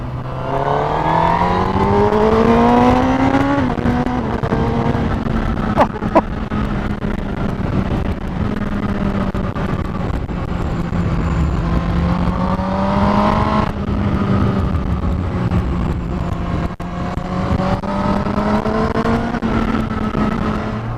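A 2018 Honda CBR1000RR SP Fireblade sportbike being ridden, its engine note loud and continuous, climbing and falling through the revs for about twenty seconds with no talking.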